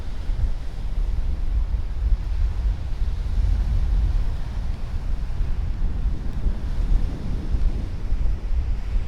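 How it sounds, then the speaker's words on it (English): Steady wind buffeting at the seashore in Burgas, Bulgaria, a constant low rush of gusts and surf with no voices. "It's quite windy, but that sea breeze is beautiful."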